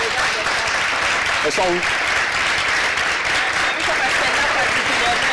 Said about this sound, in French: je vous prie, mesdames et messieurs, d'acclamer très fort et d'accueillir